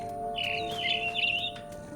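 A mother bird chirps in the video game What Remains of Edith Finch, a fluttering high trill lasting over a second, clear and close over a steady low ambient hum.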